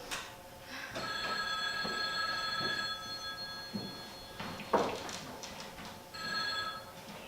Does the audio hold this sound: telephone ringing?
yes